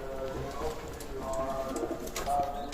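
Soft pigeon coos from a pair of pigeons sound through a steady background hum, with faint voices and other noises mixed in.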